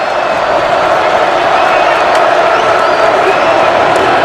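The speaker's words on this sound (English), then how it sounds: "This is the first time we've had a split crowd, so you can actually hear some of the noise." A split stadium crowd at a Georgia versus Florida college football game keeps up a loud, steady roar of noise and reaction to a non-call. It sounds broad and distant, with no single voice standing out.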